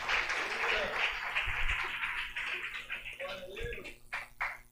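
Congregation at a church seminar breaking into sustained applause, a soft, dense wash of clapping heard from within a large hall, fading near the end as a voice comes in.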